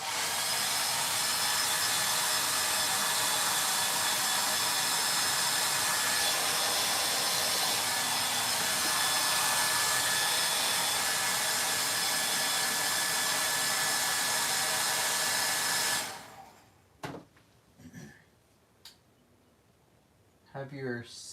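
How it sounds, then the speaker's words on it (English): A blow dryer roars steadily and loudly for about sixteen seconds, a dense airy whoosh, then cuts off, leaving a few quiet knocks and brief talk. "Blow dryer"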